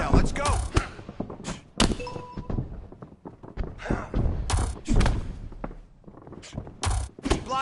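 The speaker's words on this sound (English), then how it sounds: "All right, body shots now." Punches thudding into the body during boxing training, a run of loud, sharp thumps in irregular bursts, close, with a coach's voice talking between the hits.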